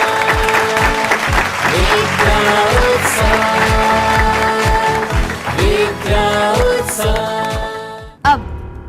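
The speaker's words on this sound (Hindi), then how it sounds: "जोरदार ताली के साथ" Loud applause for the second runner-up at the Vidya Utsav grand finale, with dense clapping over a bright tonal musical backing that cuts off abruptly near the end.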